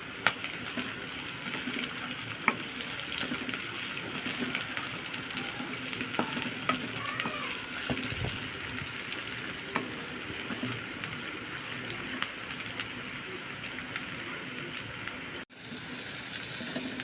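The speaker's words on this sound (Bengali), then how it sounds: "ব্রাউন করে ভেজে নিচ্ছি" Onions, with cinnamon, cardamom and salt, fry in oil toward golden brown for a Bangladeshi-style brain masala: a continuous close sizzle with intermittent stirring scrapes, briefly cut near the end.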